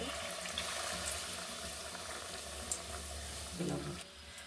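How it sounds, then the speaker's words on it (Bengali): Mixed vegetable pakora frying in hot oil, a steady close hiss and crackle that runs throughout with faint clinks near the end. "দেখুন এটাও আমি ভেজে নিলাম।"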